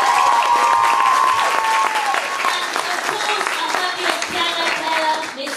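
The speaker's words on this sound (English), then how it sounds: "special clap to Ellie Mae" School talent show audience claps and cheers for a performer, a loud, thick burst of applause with crowd noise and some voices mixed in, tapering slightly toward the end.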